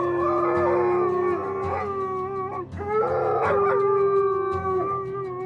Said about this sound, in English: He has several different kinds of howls